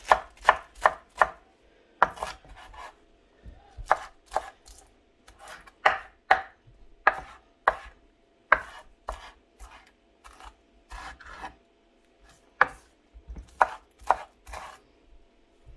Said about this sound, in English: I'm just going to roughly chop my spinach.